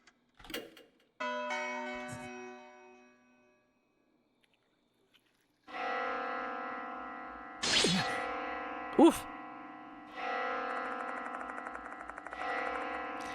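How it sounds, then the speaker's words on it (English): Bell tones from the horror game Spirit Hunter: Death Mark II, sustained ringing chimes that swell and fade in several long strikes, with a brief exclamation and a couple of sharp sounds between them. "The sound of a bell suddenly echoes in my mind."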